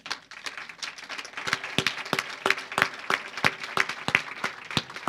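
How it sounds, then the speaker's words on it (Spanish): A modest audience at a talk on women in science and technology claps for the technologists, giving scattered, uneven claps of moderate loudness from a small group rather than a full roar. "Aplausos a las tecnólogas."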